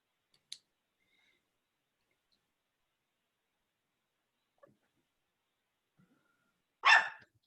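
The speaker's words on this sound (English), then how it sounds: "Puppy." A puppy gives a single short bark near the end, preceded by a few faint clicks, in an otherwise quiet room.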